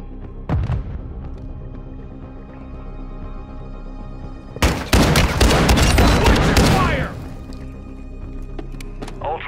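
Call of Duty gunfire bursts loud and close: a quick shot early, then a dense volley of rapid shots for about two seconds over a low rumbling battle backdrop.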